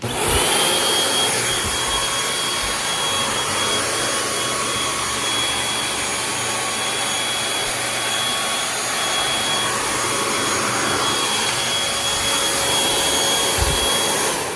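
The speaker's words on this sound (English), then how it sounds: "let's go ahead and see the vacuum cleaner in action. So we're gonna turn it on." Bissell Featherweight stick vacuum cleaner running steadily at close range, a loud constant whine and airflow hiss with no pauses, heard alone without talk.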